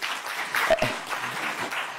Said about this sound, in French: Je demande de se lever et de l'applaudir.